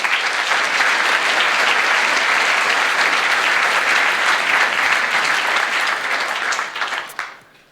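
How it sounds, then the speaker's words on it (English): A conference audience at a hacker congress gives a warm round of applause for a speaker, the dense clapping staying full and steady before thinning out and fading quickly at the end. "give Tihmstar a warm round of"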